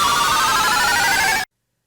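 An electronic telephone ring from an Intellivision video game trills continuously and loudly for about a second and a half, then stops dead into silence.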